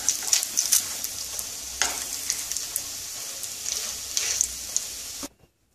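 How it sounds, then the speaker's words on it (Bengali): Brown bread sandwiches fry in a pan, giving a steady sizzle with crackling pops and a few brief scraping or stirring noises before it cuts off abruptly. "এভাবে সব স্যান্ডউইচগুলো আমি ভেজে নেব।"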